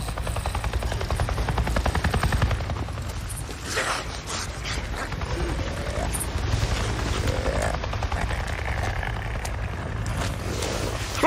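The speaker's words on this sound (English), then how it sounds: "I just saw a goddamn chopper!" A helicopter in the video game Days Gone drones steadily overhead, a continuous low rotor rumble with mechanical rattling that holds fairly loud through the whole stretch.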